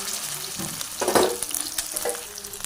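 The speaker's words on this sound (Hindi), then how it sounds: "कबाब का मिक्सचर सारा रेडी है, तो बस हल्का सा इसे हमने फ्राई ही करना है" Chicken Chinese kebab mixture frying lightly in a pan, a steady close sizzle with a louder burst of spitting oil around the middle, over faint background hum.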